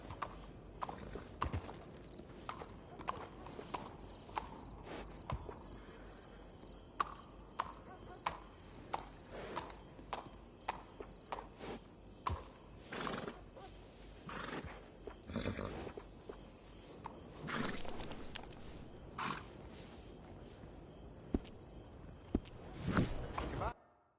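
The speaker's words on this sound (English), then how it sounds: "How's that horse doing?" Horse hooves clopping and stamping in the video game Red Dead Redemption 2, with irregular thuds and movement sounds over several seconds, some louder knocks, and faint voices in the background.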